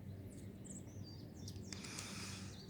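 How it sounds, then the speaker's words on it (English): Faint bird chirps and short whistled calls scattered over a steady low background rumble in a pine wood, with a brief burst of higher chatter toward the end. "Listen to the birds."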